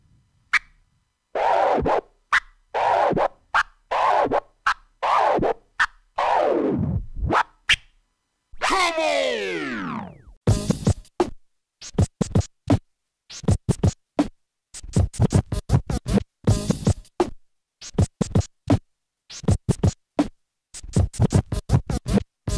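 A DJ performs dice scratches on vinyl, cutting sound chopped into rapid forward-and-back bursts with stuttering rhythmic gaps, alone and up close.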